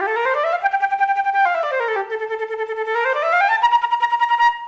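Flute phrase played close and clear, moving up and down in steps, with smooth connected notes broken by runs of short, tongued pulses.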